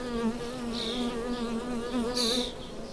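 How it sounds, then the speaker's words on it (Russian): A bee buzzes steadily and close by, a continuous droning hum that wavers slightly in pitch without pause. "Пчела на ней сидит."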